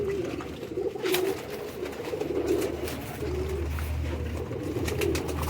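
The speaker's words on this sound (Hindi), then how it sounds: "वैक्सीनेटेड कबूतर हैं" Vaccinated pigeons cooing close by, soft repeated low coos rising and falling over a faint background rumble.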